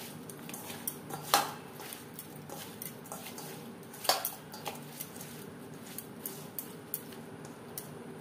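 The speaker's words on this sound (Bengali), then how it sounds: "লবণ হলুদ মাছে বেশ ভালো করে মেখে নিয়েছি" Small puti fish are worked by hand with salt and turmeric in a bowl, giving quiet wet squishes and faint clinks against the dish, close and soft with no talking.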